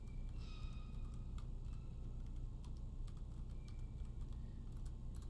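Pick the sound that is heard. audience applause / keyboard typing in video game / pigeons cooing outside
keyboard typing in video game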